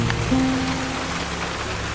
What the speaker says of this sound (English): Should we get out of the rain, guys? It's absolutely pouring.